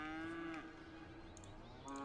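A person imitates a cow with a drawn-out, voiced moo that wavers and bends in pitch, then starts a second moo just before the end, close to the microphone and with no other talk.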